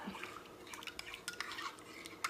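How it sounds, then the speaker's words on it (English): Spoon stirring turmeric golden milk in a cup or pot, a run of light clinks and scrapes against the sides with faint liquid swirling, close and fairly quiet, no talking. "And then just stir it up"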